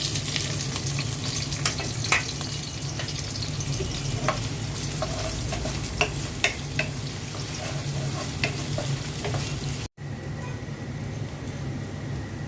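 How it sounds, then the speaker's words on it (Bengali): Chopped onion and garlic crackling in hot oil, a dense continuous sizzle with scattered sharp pops and spatula scrapes, briefly cutting out near the end before resuming; no one speaks. "তেলের মধ্যে পেঁয়াজ কুচি আর রসুন কুচি দিয়ে দিচ্ছি।"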